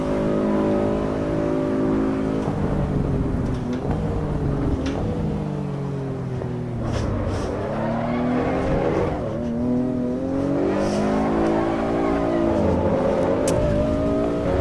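A race car's engine revs and sweeps up and down through the gears as it slides around a track in the AC EVO driving sim, loud and continuous throughout with rising and falling pitch.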